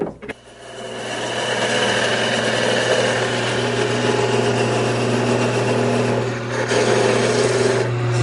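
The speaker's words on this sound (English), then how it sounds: "Now what we're going to do is part off the top from the chuck." Wood lathe spinning as a turned piece is parted off from the chuck, a steady motor hum under a continuous rasping scrape of the tool cutting wood, fairly close and unbroken, with a brief dip near the end.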